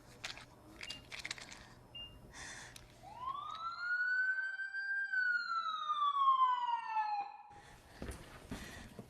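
Emergency vehicle siren in a 911 call dramatization about an overdose, a single rising then slowly falling wail that swells loud in the middle of the clip, with brief street noise and clatter before and after.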